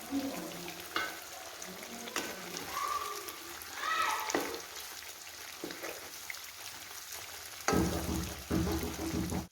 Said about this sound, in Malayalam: ചിക്കൻ ഒരു വശം മുരിഞ്ഞിട്ടുണ്ട് ഇനി അടുത്ത വശം തിരിച്ചു വെച്ച് കൊടുക്കാം